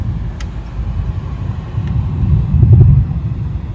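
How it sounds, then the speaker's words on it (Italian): Low, steady rumbling of distant thunder on a hot, humid, overcast day, swelling slightly toward the end, with no voices. "avete appena sentito i tuoni"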